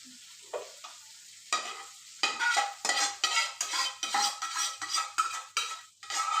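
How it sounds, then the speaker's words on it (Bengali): Whole cumin and fried onions sizzle in oil for chicken curry, stirred with a spatula in repeated close scraping strokes over a steady sizzle that grows busier toward the end. "এবার সেই তেলে আমরা গোটা জিরে দিয়ে দিলাম। তারপরে সেই ভাজা পেঁয়াজটা আমরা ঢেলে দিলাম।"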